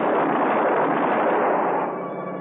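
A burst of gunfire in a classic radio noir drama, fired at a cop piloting a helicopter: dense, loud, continuous crackling rattle for over two seconds, easing slightly at the end, with no voices.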